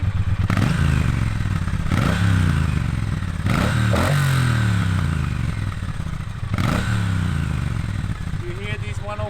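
Triumph Bonneville T120 with a 270-degree-crank parallel twin revving, a close, loud, throbbing engine note rising and falling in repeated blips, with bursts of clatter and a voice talking over it.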